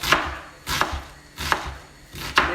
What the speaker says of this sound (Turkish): Şöyle bir soğanı kesiyoruz.